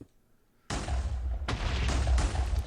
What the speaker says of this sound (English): So 4 explosions.